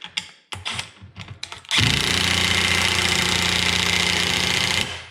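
A DeWalt DCF923 20V 3/8-inch cordless impact wrench on its lowest torque setting tightens a nut: a few short clicks and handling knocks, then a loud, continuous hammering buzz for about three seconds before it cuts off.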